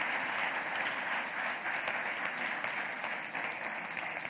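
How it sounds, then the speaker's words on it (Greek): Conference audience applauding, a dense steady wash of many hands clapping at moderate volume, sustained for several seconds with no speech over it. "νομίζω να τους δώσουμε ένα χειροκρότημα."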